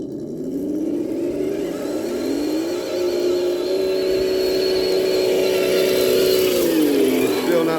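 A Traxxas TRX4 RC truck, high trailer edition with metal axles, whines steadily as it drives, its motor pitch rising, holding a long even tone, then dropping, close and continuous.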